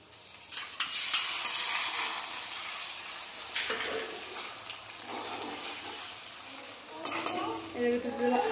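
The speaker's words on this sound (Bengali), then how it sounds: "পেঁয়াজটা একটু ভাজা ভাজা দিয়ে এর মধ্যে বাকি সব মশলাগুলো দিয়ে দেবো।" Chopped onions sizzling in a pan for a Bengali chicken curry, with repeated scraping and stirring strokes of a spoon against the pan over a steady close fry.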